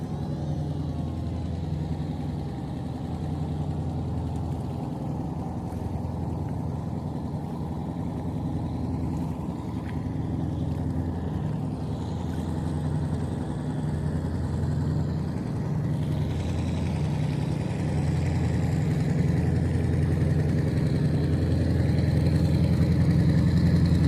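Ship engines at a cargo unloading port crowded with vessels, a constant low droning rumble that rises slightly toward the end, steady and fairly loud with no voices.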